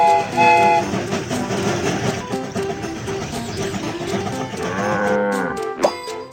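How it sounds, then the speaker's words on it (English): Cartoon train sound effects from the Baby Bus children's game, a steady busy mix of rumbling and tonal game audio with animal moos layered in, ending in a rising whistle-like sweep. "The train is about to start."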